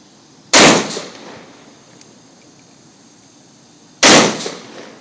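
Two loud, sharp gunshots from an SKS rifle ring out several seconds apart outdoors, each a sudden crack followed by a short echoing tail that fades into quiet between the shots.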